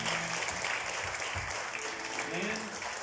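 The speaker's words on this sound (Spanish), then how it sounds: "Denle un fuerte aplauso." A church congregation claps during a service, a continuous, fairly even burst of many hands heard from a moderate distance, with a faint murmur of voices mixed in.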